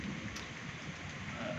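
Evening rain falls outdoors at the Lingga Yoni site in Indihiang, Tasikmalaya, West Java, a steady close hiss of drops on surfaces throughout, with no voices.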